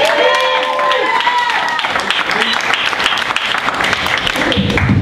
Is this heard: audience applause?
yes